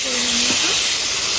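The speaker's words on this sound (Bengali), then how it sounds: "তো এই যে দেখো আমি এবার জলটা দিয়ে দেবো" Water poured onto hot frying curry made with catla fish and flat beans, bursting into a loud, close, steady hiss of steam over about a second and a half.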